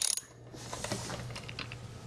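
A 14mm bicycle crank bolt is loosened with a Park Tool CWP7, giving a quick run of close ratcheting clicks at the start followed by a softer metallic grinding as the bolt turns.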